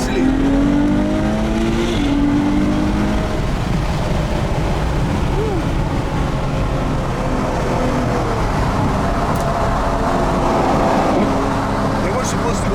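Ferrari 812 Superfast Mansory, an 830 hp supercar, pulls hard in third gear during a supercar parade, a steady loud engine drone with wind roar inside the cabin, and someone talking over it.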